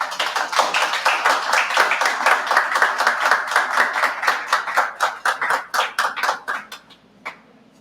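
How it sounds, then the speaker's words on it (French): An audience at a presentation by a candidate for Bâtonnier claps for his team, a dense burst of hand claps that loosens into scattered individual claps and fades out near the end. "l'assistance puisse vous voir et vous saluer par leur applaudissement"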